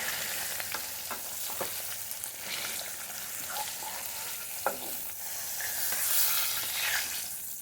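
Fish fries in oil in a wok with a soft, steady sizzle, while scattered scrapes and light taps of stirring sound close by.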